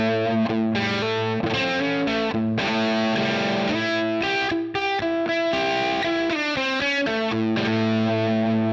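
Distorted electric guitar through a Line 6 Helix amp model with the sag control turned up to 10, playing a loud, continuous run of sustained, compressed chords and notes with a chorus-like shimmer and no talking.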